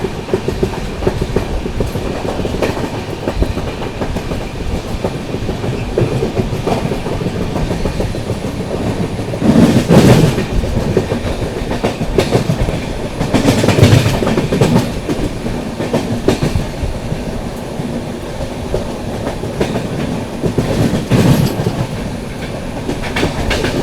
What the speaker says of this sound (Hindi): पूरी ट्रेन भाई घूम रही है सीरियसली